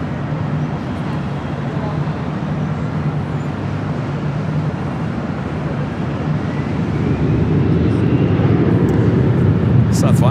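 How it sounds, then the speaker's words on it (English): Hawaiian Airlines Airbus A330 arriving on the north side at LAX: a steady, broad jet roar that swells gradually and grows louder toward the end, with no voices over it. "we're waiting on that Hawaiian A330 next arrival on the north side"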